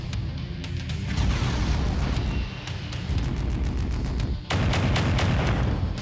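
Heavy mech weapons firing in MechWarrior 5: Mercenaries, a loud, dense run of booming blasts and rapid shots with crashing impacts, continuing almost without pause apart from a couple of short dips.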